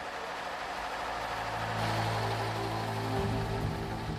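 Heavy engines of a gold mining dredge on the Rio Madeira run steadily and loud, a low droning hum with a deepening rumble partway through, no voices.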